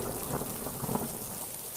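Steady rain with rumbling thunder in a cartoon forest at nightfall, a dense continuous wash of downpour with low thunder swelling through the middle, no voices.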